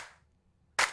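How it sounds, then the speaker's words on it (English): A basic, standard clap sample from the multitrack of a song sounds once as a sharp, bright burst near the end, after the fading tail of an earlier hit and a short silence. "Pretty basic, standard clap."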